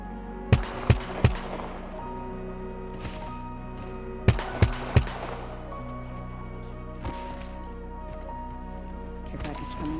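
Gunfire in a video game, two quick clusters of sharp loud shots about three seconds apart over steady game ambience and background music.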